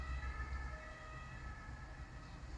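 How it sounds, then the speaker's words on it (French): Emergency sirens sound faintly in the distance, with steady high tones drifting over a low background rumble, and no voices. "les sirènes en plus"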